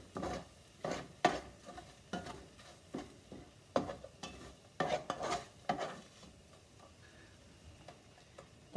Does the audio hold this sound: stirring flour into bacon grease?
yes